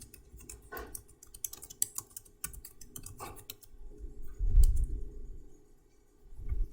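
Keys clack on a computer keyboard in irregular bursts of quick taps with short pauses, fairly close and alone, with a few heavier thumps.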